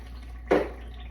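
A single soft bubble pops from a pot of tomato sauce with meatballs (Sunday gravy) as it simmers, one short plop over a quiet background.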